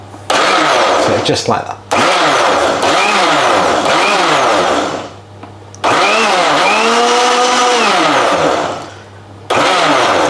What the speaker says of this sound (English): So what I'm going to do with this is I'm not going to actually blend it. I'm going to pulse it through.